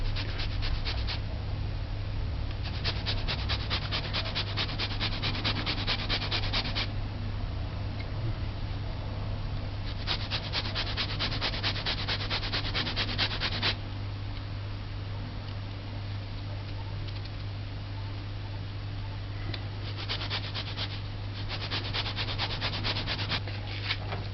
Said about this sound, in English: You need the zest of an orange.